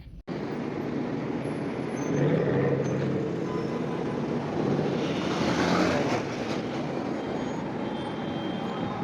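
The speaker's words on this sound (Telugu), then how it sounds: "ట్రాఫిక్ జాము ఒక రేంజ్లో ఉంది" Road traffic stuck in a heavy jam in Kuwait during Bakrid festival shopping, a dense continuous rumble of engines and vehicle noise heard from close by, with no talk over it.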